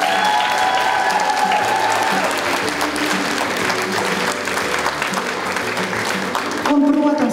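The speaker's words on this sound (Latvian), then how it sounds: "Aplausi!" An audience at a concert applauds, sustained dense clapping from a crowd filling the room for several seconds, with a voice briefly speaking over it.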